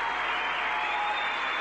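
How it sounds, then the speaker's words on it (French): Crowd in Brussels applauding together at the close of a minute of silence, a dense, even wash of distant clapping from many hands sustained throughout. "Des Bruxellois très émus terminent la minute de silence en communiant avec des applaudissements."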